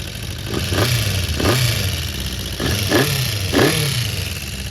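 A restored classic Honda CB400 Four, running on all four cylinders, is revved up in four or five quick blips over a steady idle, loud and close, with no talk.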